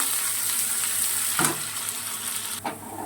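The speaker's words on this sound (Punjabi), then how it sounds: "ਫਿਰ ਉਹਦੇ ਚ ਪਾ ਦਾਂਗੇ ਆਪਾਂ ਨੇ ਬਰੀਕ ਕੱਟਿਆ ਹੋਇਆ ਜਿਹੜਾ ਪਿਆਜ਼ ਦਾ ਇੱਕ ਤੇ ਇਹਨੂੰ 2-3 ਮਿੰਟ ਭੁੰਨੂਗੇ ਆਪਾਂ ਪੂਰੀ ਆਂਚ ਪਰ" Finely chopped onion and cumin fry over a high flame with a constant, fairly loud hiss, and a couple of soft scrapes of a stirring spoon break through.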